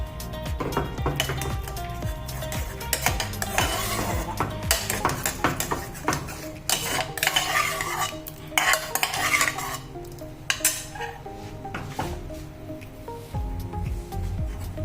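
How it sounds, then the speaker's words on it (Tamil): Cooked lentils for paruppu payasam being mashed in a pot, a spoon scraping, stirring and knocking against metal in uneven bursts, close and clear with no talk. "இதை வந்து கொஞ்சம் லைட்டாக மசிச்சு விட்டுருலாம்"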